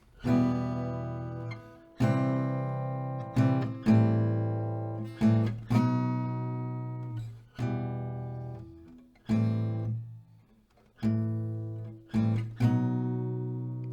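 Acoustic guitar strumming chords in steady downstrokes, with several short pauses between bursts, clear and close with no voices.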